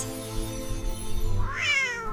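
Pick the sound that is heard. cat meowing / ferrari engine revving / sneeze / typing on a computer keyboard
cat meowing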